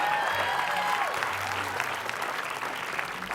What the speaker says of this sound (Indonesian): Jadi tepuk tangan dulu untuk Wak Doyok.